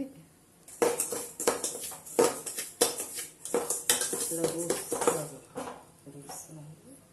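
Roasted semolina for apple kesari being scraped and tipped from a metal pan onto a plate, with repeated close spoon clinks and scrapes and a voice talking underneath.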